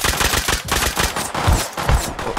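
Loud, rapid gunfire from the video game Rust, with dense overlapping shots and bursts firing continuously throughout.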